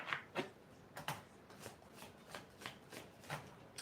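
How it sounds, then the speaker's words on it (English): Deck of tarot cards being shuffled, about a dozen soft crisp riffles in a fairly even rhythm, faint and close, with no voices over them. "I'm not good with these cards. Shuffling."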